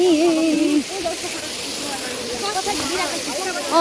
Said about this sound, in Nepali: यो झरनाको चिसो पानी